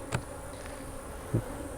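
Honey bees hum in an open hive during a beekeeping inspection, a faint, steady drone with two soft low thumps.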